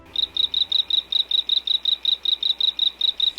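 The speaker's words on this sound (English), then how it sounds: "You may think that frogs croak, but he sort of chirps." A small frog chirps in a steady, rapid series of short, high, evenly spaced pulses, about four or five per second, clear and unaccompanied by any voices.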